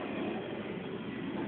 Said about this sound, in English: Here I am, videotaping a train.